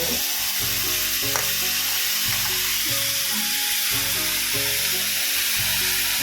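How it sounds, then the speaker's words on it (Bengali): Carrots and potatoes sizzle steadily in a hot pan while being stirred, with rhythmic scraping strokes repeating over the continuous frying hiss at close range. "এখন গাজর আর আলু দিয়েছি একটু নাড়াচাড়া করে নিলাম"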